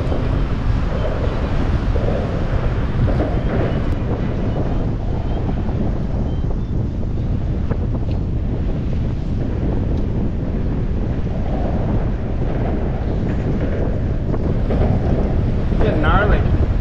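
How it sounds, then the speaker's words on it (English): Strong wind buffets a boat at sea during saltwater jigging, a steady loud roar of gusts on the microphone over the wash of water, continuous for the whole stretch with no clear pauses. "Here comes that wind."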